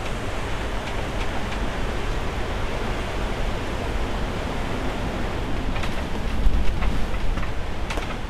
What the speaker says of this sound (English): The wind's coming right down the canal now, right?